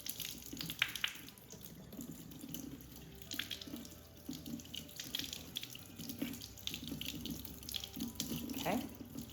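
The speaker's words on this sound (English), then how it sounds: "I'm gonna turn on my water, kind of rinse the plant a little bit." Warm tap water runs over an orchid being rinsed at a sink, a steady splashing gush with occasional drips and clatter, moderately close and fairly quiet, with no talk.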